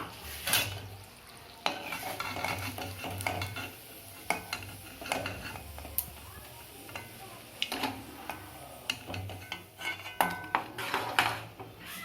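Malpua batter cakes frying in oil in a pan, with steady low sizzling under repeated clinks and scrapes of a spatula stirring and lifting them out, close and busy throughout.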